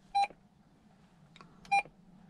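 Two short electronic beeps from the speaker of a VHF DSC marine radio aboard a sailing yacht, spaced about a second and a half apart, with a faint click between them in a quiet cabin.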